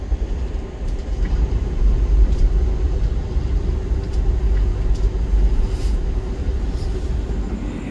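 Sustained low rumble of the KA Menoreh economy train rolling into Jatibarang station in Indramayu, a steady loud rail drone with faint rattles, no voices.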